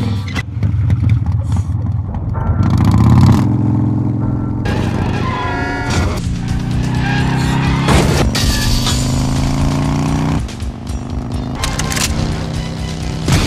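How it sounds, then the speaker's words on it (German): A Harley-Davidson Fat Boy motorcycle riding on the road and autobahn, its loud engine droning and revving close up, with gear changes and strong wind rush running steadily throughout. "die Fatboy ist tatsächlich die Harley, wo Arnold Schwarzenegger quasi im Terminator drauf gefahren ist"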